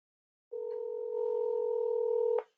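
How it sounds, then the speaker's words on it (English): A telephone tone sounds as a number is dialed, one long, steady, loud tone lasting nearly two seconds before cutting off with a click. "So I'm gonna dial that again and then get the cell phone number."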